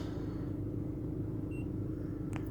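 A car's low, steady engine idle rumbles continuously, with a faint short beep near the end.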